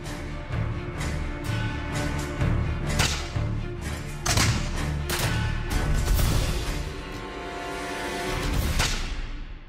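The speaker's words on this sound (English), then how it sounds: "The startled Pilgrims hastily grab their muskets and from the cover of their camp, return fire." Musket fire from Pilgrims shooting back from their camp during the Nauset tribe's arrow attack, a series of sharp, booming shots and cracks at irregular intervals, close and loud, with no talking.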